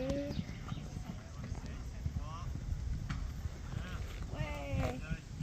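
Horse hooves thud and clip-clop on an arena surface during a riding and jumping lesson, with a few steady footfalls under outdoor ambience while people talk nearby in French.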